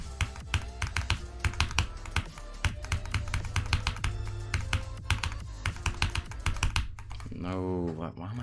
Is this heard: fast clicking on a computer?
yes